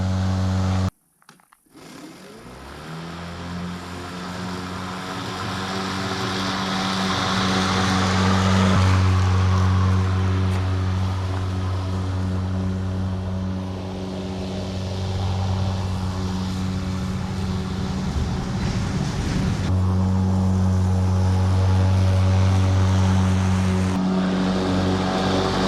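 An EGO 56-volt battery push mower runs with a smooth, steady electric hum and whirring blade, rising slightly as it settles and holding an even tone throughout.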